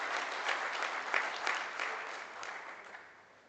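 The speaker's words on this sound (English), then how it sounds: "Won't you give them a round of applause?" An audience at a junior collegiate livestock judging awards event applauds for trophy winners in a steady, full wash of clapping that gradually fades toward the end.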